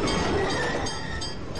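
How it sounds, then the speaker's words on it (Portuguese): Streetcar of the Bahia Tramway rolling through Salvador, a steady rumbling rail noise with a faint metallic ring, continuous and close for a brief moment. "O bonde!"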